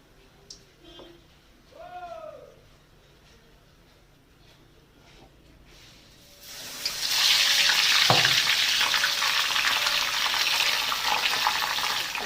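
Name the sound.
helencha leaf fritters in rice flour batter deep frying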